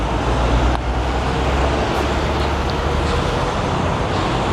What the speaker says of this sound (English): this is like one of the busiest streets, one of the busier roads